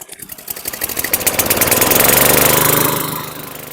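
A 2020 Troy-Bilt lawn mower engine turns over with quick rhythmic chugs, catches, and rises into a loud, steady near running roar.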